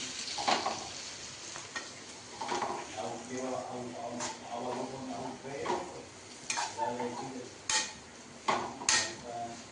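Hot oil sizzles steadily as a vaghar (tempering) crackles for homemade frankie, with spoon stirs and sharp pan clinks cutting through at intervals while people talk nearby.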